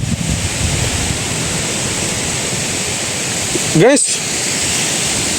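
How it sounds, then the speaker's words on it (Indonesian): Strong wind roars in a dense, unbroken rush against the microphone, loud and close throughout, with a person briefly calling out near the end. "Itu anginnya kencang kali, ya Allah."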